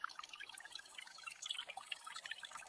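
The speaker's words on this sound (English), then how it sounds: "I rinse the dishes with clean water." Faint, irregular water drips and trickles while dishes are rinsed in a kitchen sink, light and steady with no talk.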